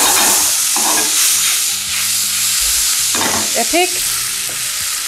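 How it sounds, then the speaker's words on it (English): Tomatoes drop into a hot pan and sizzle loudly and steadily, with stirring scrapes and brief clatter; a voice speaks once near the start. "I'm going to get the tomatoes and put the tomatoes in."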